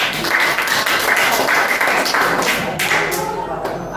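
Classroom of students clapping for a classmate, a dense burst of rapid claps sustained for a few seconds, fairly close, with some voices mixed in.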